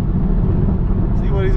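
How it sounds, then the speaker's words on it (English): A Chevrolet Camaro engine revs close by in a brief burst, its low rumble partly buried under loud talking from people inside another car. "This Camaro's over here revving shit."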